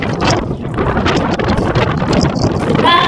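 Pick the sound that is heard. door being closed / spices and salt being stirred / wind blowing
wind blowing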